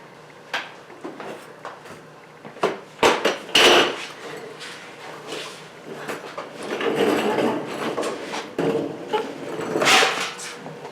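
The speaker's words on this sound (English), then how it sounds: "removing the drain plug with our ratchet" A ratchet on an 18mm socket loosens the oil drain plug of a MK4 VW New Beetle, heard as scattered close clicks, knocks and metallic clatter in irregular bursts.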